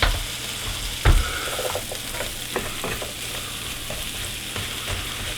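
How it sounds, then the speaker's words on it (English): Onions browning and caramelizing in a pan without garlic, a steady close sizzle with occasional louder clatters and scrapes of stirring, no talking. "we're gonna let that brown up, cook and brown up and caramelize the onions at the same time"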